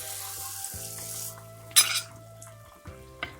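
Flattened beignet dough balls hit hot oil in a frying pan, with a soft hiss at the start and a brief sharper sizzle burst midway. A faint hum and light clinks of the pan run underneath.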